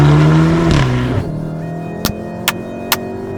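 A Volkswagen Golf 7R with Oettinger tuning revs hard and shifts, engine note climbing then dropping as it settles, followed by three short sharp pops or bangs spaced about half a second apart.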